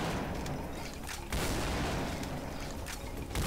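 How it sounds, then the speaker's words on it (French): A double-barrel shotgun fires in Brutal Doom, a Doom II game. Two heavy booming blasts come a couple of seconds apart, amid dense, noisy in-game combat sound. "le bon vieux double shotgun"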